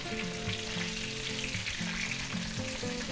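Breaded chicken cutlets for chicken parmesan fry in a pan with a steady, close crackling sizzle, while soft background music plays underneath and nobody speaks.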